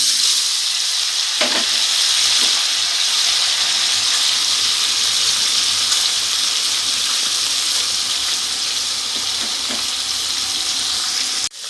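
Paneer pieces frying in hot white oil in a wok give a loud, continuous close sizzle, with a few faint clicks and pops near the start before it cuts off abruptly.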